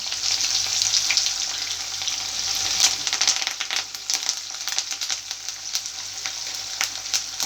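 Cumin seeds, fenugreek seeds and onions fry in hot oil in a pan for eggplant curry, giving a steady close sizzle with crackling pops and occasional stirring scrapes throughout.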